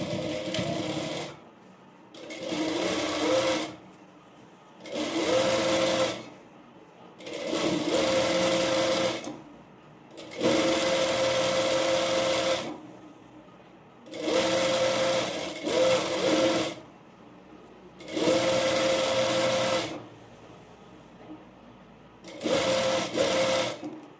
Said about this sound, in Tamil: இப்போ இந்த எட்ஜில் ஸ்டிச்சஸ் போட்டுக்கலாம்.